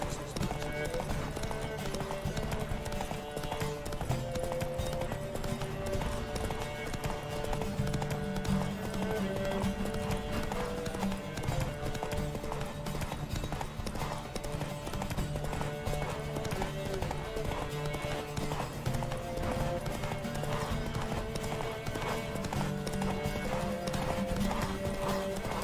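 Horses in a race in The Witcher 3 video game, a steady clip-clop of hooves running continuously with occasional whinnies over a dense bed of game music, loud and close throughout.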